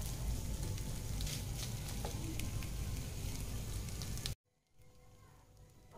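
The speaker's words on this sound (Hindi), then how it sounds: "हम इसे अच्छे से बिल्कुल लो फ्लेम पे भून लेंगे, 2 मिनट तक भून लेंगे" Boiled chicken fries on a low flame for a chicken paratha, giving a steady, close sizzle that runs for about four seconds before cutting abruptly to a much quieter background.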